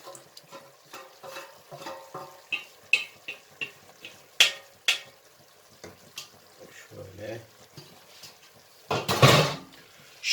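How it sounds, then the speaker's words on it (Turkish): Fettuccine pasta being stirred into sauce in a pan over low heat, with soft scraping and wet sloshing strokes in an irregular rhythm, a few sharper utensil knocks, and a louder sizzling burst near the end. "arkadaşlar bu sosu güzelce karıştırıyoruz"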